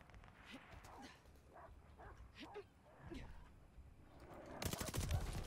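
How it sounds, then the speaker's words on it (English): Dogs bark and yip in Call of Duty Vanguard gameplay, several short sharp barks spread over a few seconds. Gunfire bursts in near the end, and a voice speaks. "I hear the dogs."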